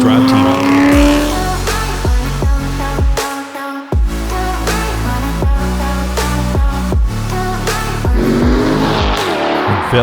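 A Speedway White 2003 Corvette C5 Z06 with a rebuilt title, its V8 revving hard while driving, climbing and dropping through repeated gear changes, loud and close with no talking.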